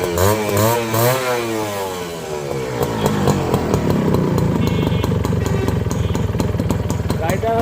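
A Honda CDI H100S motorcycle with its original Japanese carburettor starts up and settles into a running idle, first rising and falling with a few revs, then a steady close putter that lasts to the end.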